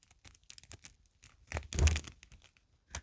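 Paper is crumpled and handled close up for ASMR, with scattered crinkles and rustles building to a louder scrunch in the middle before fading to a few soft touches.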